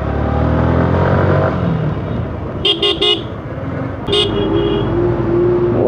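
Road traffic rumbling past a bike on the road, with a lorry passing nearby and two short bursts of vehicle horn honking over the engine noise.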